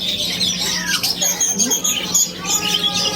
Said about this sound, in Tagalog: Ay, ayan, may bird.